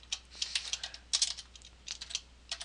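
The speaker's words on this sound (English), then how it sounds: "And then I type it in there" Quick bursts of keystrokes on a computer keyboard, entering a program prompt for a C tutorial, come in clustered runs with short pauses, close up and fairly quiet, with no talking.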